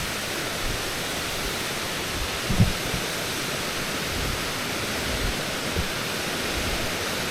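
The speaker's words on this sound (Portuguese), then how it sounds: "tá sendo formada uma queda d'água" A waterfall forming in a rocky gorge by a bridge gives a steady, dense, hissing rush of falling water that holds evenly throughout, with no other sounds standing out.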